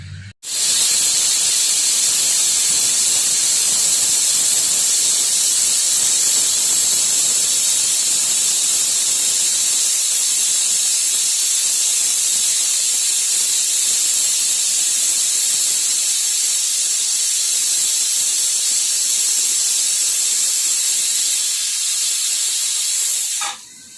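A pressure cooker on the stove whistles and vents steam in a loud, steady hiss that runs almost without a break for about twenty-four seconds, then cuts off abruptly.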